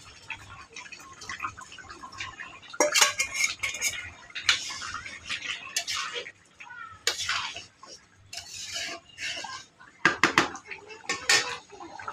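Meat curry stirred in a cooking pot, with irregular metallic scrapes and clinks of a utensil against the pot in quiet bursts and a faint voice now and then.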